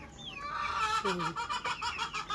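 Chickens cluck close by near their egg-laying nests: a rising call opens, then a run of rhythmic, repeated clucks follows with no talking.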